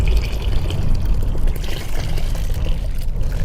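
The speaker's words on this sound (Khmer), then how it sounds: "ខ្ញុំថែមទឹកធម្មតាតិចទៀតទៅ" Plain water poured into a small pot of Khmer samlor prahar soup for nom banh chok, a steady splashing gush running continuously and fairly loud with no voices.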